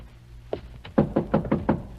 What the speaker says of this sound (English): answer the violent pounding on the outer door